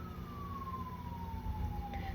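An ambulance siren passes outside, a faint, distant, steady wail that slowly falls in pitch as it goes by, over a low background rumble.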